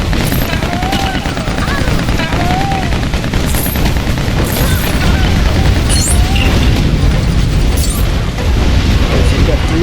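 Shooting in LEGO Batman 2 fills the space with loud, constant blasts and booming impacts, dense and unbroken, with brief whistling effects overhead.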